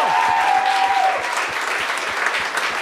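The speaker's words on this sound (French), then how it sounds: "peux-tu l'applaudir?" Audience at a comedy show applauding a comedian, a dense, steady wash of clapping hands from a crowd filling the room, loud and continuous with no voices on top.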